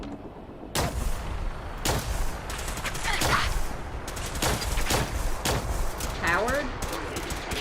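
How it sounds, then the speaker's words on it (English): Repeated gunshots in the Fallout 4 video game, sharp bursts spaced irregularly through the clip with a few louder cracks, while a voice speaks briefly over the firing. "Where are you shooting me from?"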